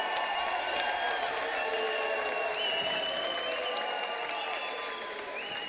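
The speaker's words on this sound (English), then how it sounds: "round of applause for these two warriors" An arena crowd at an MMA event claps and cheers for the fighters, a steady wash of applause with a few whoops, fairly distant and even throughout.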